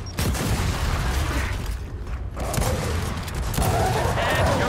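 Gears of War 4 combat rings out in a loud, continuous barrage of gunfire with booming grenade blasts layered throughout, the din dense and unbroken from start to finish.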